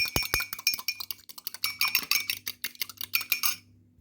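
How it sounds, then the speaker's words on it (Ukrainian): A fork beats egg yolk with sour cream in a bowl, giving quick, rhythmic clinking taps against the side that run for a few seconds and then stop. "до жовтка додаю столову ложечку з гіркою сметану та виделочкою перемішую"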